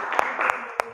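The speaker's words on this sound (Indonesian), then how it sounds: "Tepuk tangan." A few distinct hand claps ring out in a classroom lesson, three sharp separate claps over a steady background murmur.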